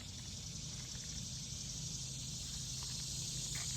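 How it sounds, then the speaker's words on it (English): Cicadas buzz in a loud, continuous high-pitched drone around a garden center in summer, steady throughout with a low background rumble and no voices. "That loud noise that you hear in the background are cicadas."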